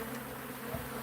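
Small honey bee swarm buzzing steadily at a tiny hive, a continuous close, even drone with no talk over it.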